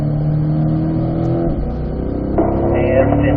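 A C8 Corvette accelerating hard on a race track, its engine droning steadily with a distinct drop and rise in pitch at each upshift, loud and close from inside the car.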